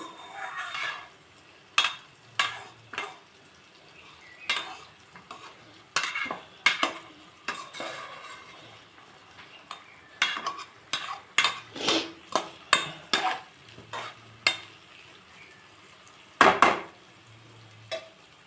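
Brinjal and tomato curry being stirred in a pan, with a spoon repeatedly scraping and clinking against the metal in irregular bursts, some quick and sharp, over a faint background of low simmering.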